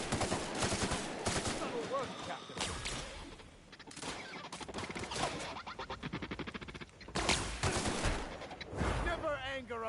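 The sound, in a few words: gunfire in the video game The Outer Worlds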